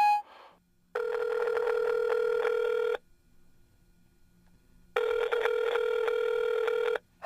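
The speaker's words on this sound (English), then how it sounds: "Let me call my girl phone." A phone call's ringback tone plays, two long steady electronic rings about two seconds each with a quiet gap between, fairly loud and clear with no talking over them.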